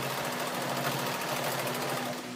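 A sewing machine runs at a steady, fast rhythmic chatter while stitching a denim apron made from old jeans, a close, moderately quiet mechanical hum with no voices.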